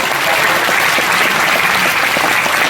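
Thunderous applause from a large audience at a public event in Bihar, dense, loud and continuous clapping throughout.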